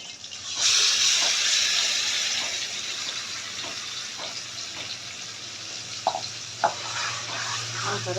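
Marinated chicken pieces sizzle and hiss in a hot pan for the chicken pulao, with a steady broadband frying wash, a low hum underneath and a few sharp scrapes near the end as the meat is stirred.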